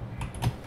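Typing on a computer keyboard while writing Rust code, a few quick soft key clicks close by, brief and isolated.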